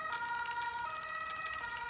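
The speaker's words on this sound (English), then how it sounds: "Suddenly, you hear the sirens of an ambulance and police cars." Wailing sirens from an ambulance and police cars sound steadily and fairly loud for the whole stretch, with no voices over them.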